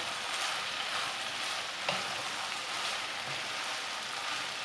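Wood ear mushrooms, garlic and ginger sizzle and fry in a pan with a steady close crackle, and a faint scrape of stirring comes through. No voices are heard.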